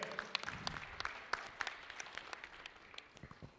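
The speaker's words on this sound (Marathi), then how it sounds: "या आयकॉनसाठी आयकॉनसाठी सगळ्यांना टाळ्या वाजव" An audience at a local premier league cricket player auction applauds an icon player, a faint, scattered patter of individual claps heard from a distance that thins out toward the end.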